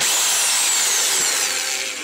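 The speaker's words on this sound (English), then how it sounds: "It's a Black & Decker drill. It's drill and hammer drill." A Black & Decker drill and hammer drill runs at speed, a loud close whine that holds steady and then slowly drops in pitch as it begins to wind down.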